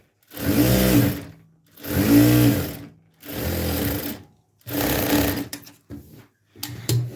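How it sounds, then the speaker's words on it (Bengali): A sewing machine stitches the two side seams of a palazzo in four loud, steady runs of about a second each, separated by short pauses, followed by a few brief, choppier bursts near the end. "দুই সাইডটা সেলাই করে নিচ্ছি"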